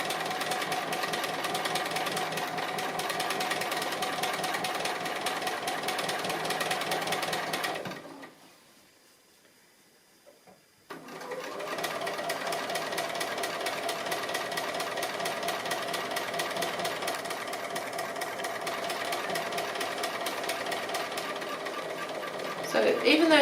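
A sewing machine stitches appliqué on fabric with rapid, steady mechanical whirring, stops for about three seconds of near silence, then runs again at the same pace, with a voice heard at times.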